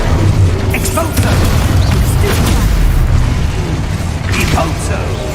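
An Exposo explosion spell from the video game Hogwarts Legacy booms loudly amid continuous battle noise, with rumbling low blasts and scattered sharp bursts over several seconds while voices call out.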